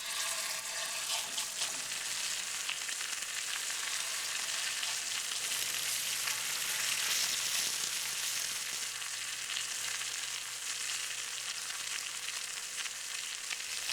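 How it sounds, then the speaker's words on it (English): Pork chops sear in a hot pan with a steady, loud, crackling sizzle that runs unbroken and close by, with no talking over it. "Now that sizzling sound tells me that that pan is filling up with flavor, brown flavor"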